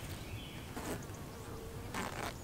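A dense, continuous buzz of many honeybees swarming around an open hive, close and loud, with individual bees droning past.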